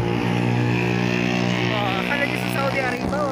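A motorcycle passes on a street in Saudi Arabia, its engine drone holding steady and then rising as it moves by, under a voice talking.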